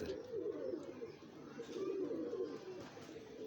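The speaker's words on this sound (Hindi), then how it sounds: "ये इसकी आई बड़ा गुस्सा कर रहा है यार ये कबूतर" An agitated pigeon cooing close by, low throaty rolling coos repeating in a steady run, moderately loud with a faint background hum.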